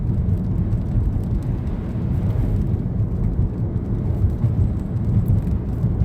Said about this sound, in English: We're catching up to the storm.